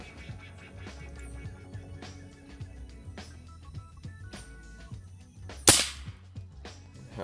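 A 9mm Javali PCP air rifle fires a single sharp, loud crack at a lighter target about 17 metres away, set against a quiet outdoor background with faint low rumbling and no talking.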